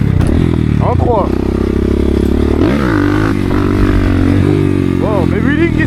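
A 300cc motorcycle, a GST 300, revs hard through a wheelie attempt, its engine droning loud and close with rising and falling pitch as gears change, while a rider's voice talks over it.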